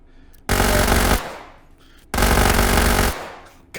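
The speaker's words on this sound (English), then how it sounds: "So it actually goes boom, boom, boom, boom, boom, like 1, 2, 3, 4, 5, 1, 2, 3, 4, 5. Very fast." A rapid-fire multi-barrel shotgun in the VR shooter H3VR fires two long, loud bursts of blasts in quick succession, each lasting under a second, with a short pause between them and no talking.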